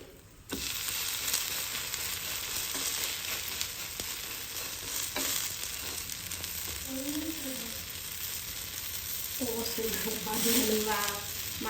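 Uttapam batter sizzles steadily on a hot pan, with faint stirring and scraping sounds and a few brief bits of background speech.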